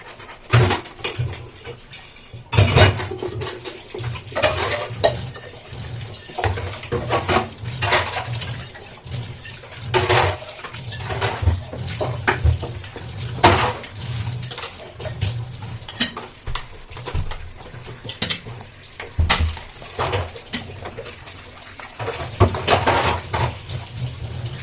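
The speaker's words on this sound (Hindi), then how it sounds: "गाइज़ मैंने यहाँ पे बर्तन धो लिए थे।" Dishes, pots and pans being washed at a home kitchen sink, with repeated clanks and clatters of metal utensils and cookware over a steady wash of running water, close and fairly loud throughout without any talking.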